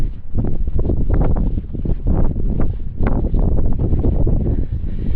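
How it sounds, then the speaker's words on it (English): Loud, gusty wind buffets the microphone in a continuous roar at mountaintop ancient church ruins, with surging bursts and no voices. "it is making a crazy sound today. Obviously very windy."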